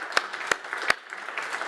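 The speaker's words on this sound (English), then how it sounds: "Did somebody just about start clapping there?" A few scattered hand claps ring out in a conference hall, three sharp distinct claps followed by faint sparse clapping, as if an audience member starts applauding before others join in.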